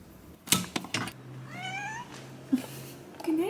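A pet cat named Wednesday meows several times at bedtime in a quiet room, each meow close and distinct, followed by a rising higher call near the end.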